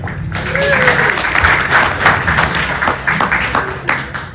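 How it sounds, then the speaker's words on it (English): Luncheon audience applauding together, a dense wash of clapping that swells after a moment and holds steady with a few louder hand claps poking out near the end. "Let's applaud everybody."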